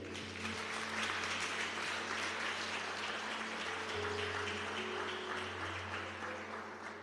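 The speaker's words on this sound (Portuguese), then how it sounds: "Vamos dar um aplauso ao Senhor." A church congregation applauding together, sustained dense clapping that swells and holds for several seconds, with a low steady hum underneath.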